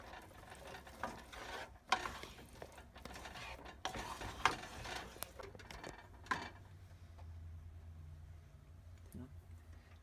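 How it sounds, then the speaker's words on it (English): Potatoes being stirred with bacon grease and onions in a pot, soft scraping and clinking of the spoon against the pot in uneven strokes, fairly quiet, with a low hum and a few sharper knocks. "we're going to stir it around, trying to get all the grease from the bacon and the onions to incorporate with the potatoes"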